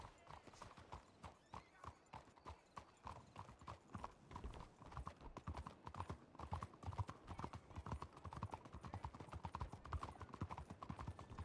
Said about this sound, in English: Jimmy, you got to put your horse away.